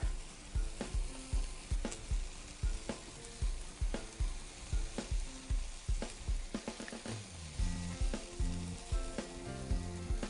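Burgers topped with Vermont cheddar slices sizzle and spit in a hot pan, a loud, close, steady frying hiss with repeated sharp pops and crackles and no talking.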